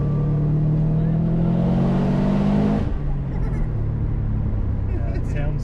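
Subaru Impreza STI rally car engine revving hard and echoing through trees, a loud rising drone that peaks and then drops away to a lower idle, heard outdoors with people talking.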